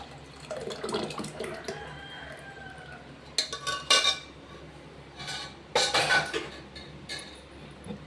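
Cooking water splashes and trickles into a pot of sirukeerai kadayal amid light clinks of metal cookware, with a couple of louder pouring bursts.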